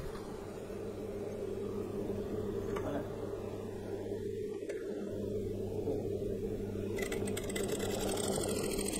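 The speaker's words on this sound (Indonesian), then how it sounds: "Okey, jahit ke bawah sampai dekat tempat yang kita tanda." A sewing machine runs steadily, stitching down the seam of palazzo trousers with a continuous fast whirring hum, close and even throughout, and light talk faintly underneath.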